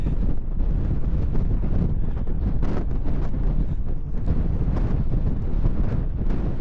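Strong wind buffets the microphone on a bridge at Uppermill in Saddleworth, a loud, continuous rumbling roar with gusty surges that runs for the whole stretch, with no other sound standing out.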